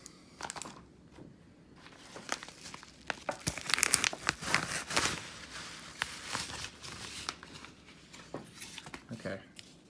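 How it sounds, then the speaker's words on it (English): A sports card package is unwrapped up close: crinkling plastic wrap and tearing come in bursts and short rustles, with quieter pauses between them. "we're gonna go in and unwrap this one"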